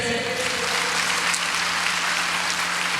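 Group of teachers clapping hands together at an activity training session indoors, a dense, steady burst of applause lasting a few seconds with no talking.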